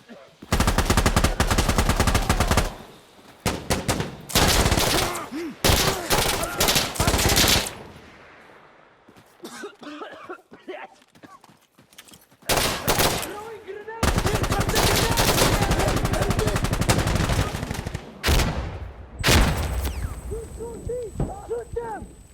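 Gunfire in the video game Insurgency Sandstorm: loud, close bursts of automatic fire and single shots come in clusters separated by brief lulls, with voices shouting over the shooting.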